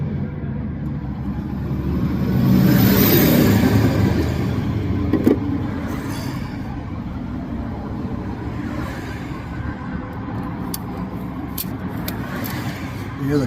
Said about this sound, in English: You hear the cars coming by.